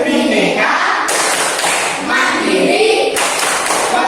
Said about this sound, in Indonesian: Tepuk pelajar Pancasila